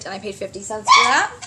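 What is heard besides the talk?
dog barking during a thunderstorm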